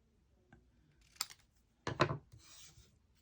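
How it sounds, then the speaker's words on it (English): A few brief scraping cuts as the ends of paper are trimmed for a birthday card, two short rasping strokes followed by a soft rustle, quiet and close. "I'm just going to trim each end"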